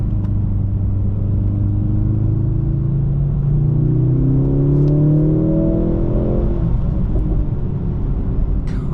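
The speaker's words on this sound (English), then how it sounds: "the exhaust really does give you something to look forward to. You got the burbles and the pops." A 2025 Mercedes AMG C63 in Sport Plus mode accelerates hard, its exhaust note climbing steadily in pitch over several seconds. A couple of sharp exhaust pops come through the continuous roar, heard from close by.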